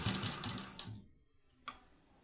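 A sewing machine stitches a leaf-neck blouse in a brief rapid burst of needle clatter, then stops, followed by a single sharp click.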